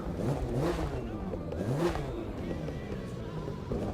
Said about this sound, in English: Let's start the engine real quick.